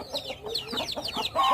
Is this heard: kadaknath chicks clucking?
yes